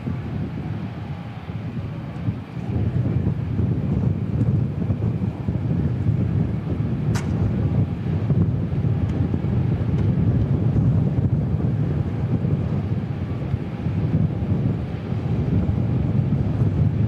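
Strong wind at Christchurch Airport buffets the microphone in a continuous, loud low rumble with gusty surges and a brief faint click partway through.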